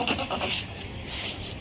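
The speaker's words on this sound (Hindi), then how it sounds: "ये बकरा भी जो है ना खतरनाक है" A rowdy, aggressive male goat in Hyderabad bleats loudly and close, with harsh cries over the first second and again near the end, against steady outdoor background noise.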